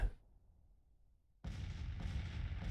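Union artillery opens fire in the Grand Tactician strategy game, a sudden loud blast after a near-silent lull, then a continuous rolling roar of guns firing together.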